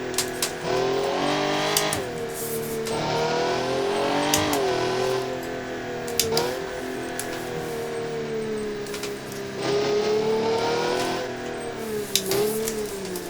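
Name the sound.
car engine revving in BeamNG video game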